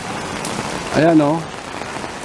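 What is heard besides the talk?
sudden heavy rain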